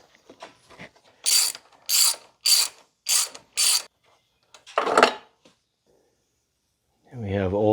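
A ratchet wrench works on the spark plug of a Kubota Z251 zero-turn mower in short, loud bursts of clicking, five distinct runs in a row, with a brief voice afterward.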